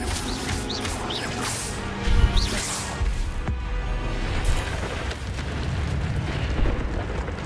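Expelliarmus spell effects from Hogwarts Legacy sound in quick succession, with whooshing swells, sharp crackling bursts and one heavier impact, close and loud over a continuous rumbling background.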